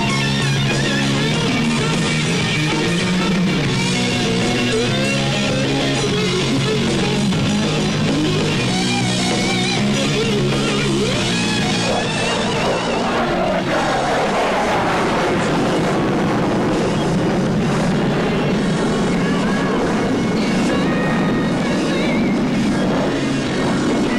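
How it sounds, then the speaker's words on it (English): F-15 Eagle jet fighter passing at 500 feet: a loud, broad jet roar that swells and sweeps in pitch as the aircraft goes by, then fades into a sustained rumble. "He'll pass us at 500 feet, then make a rolling pitch up as he reverses his direction and prepares to land."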